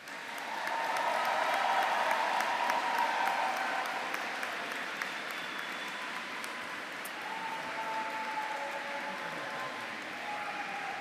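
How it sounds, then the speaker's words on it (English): A graduation audience inside Canterbury Cathedral applauds, a broad wash of clapping from many hands that swells early, then settles into a softer, steady patter under the reverberant space. "Will you please applaud them in return?"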